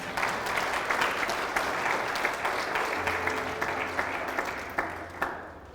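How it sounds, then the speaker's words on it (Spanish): Congregation applause during a church service, with steady, fairly close clapping from a gathered crowd lasting several seconds before it thins out at the end. "Vamos a aplaudir al Señor."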